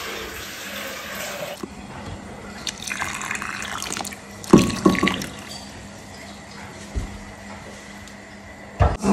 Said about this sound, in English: I'm going to wash the blender with some water.